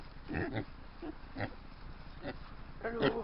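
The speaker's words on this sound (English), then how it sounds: "Look at all these little pigs." Little pigs grunt and oink in short, close bursts beside the River Isla in Scotland, a few scattered calls with pauses between and a louder cluster at the end.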